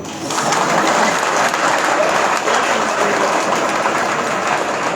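Steady applause from a large crowd at a political party conference, a dense wash of clapping that starts abruptly and holds at the same level throughout.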